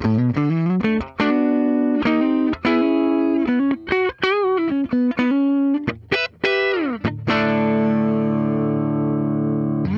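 A 2007 Gibson Les Paul 25 electric guitar on its neck pickup, warm and thick, plays a run of picked notes, then a bend and a long sustained chord ringing out.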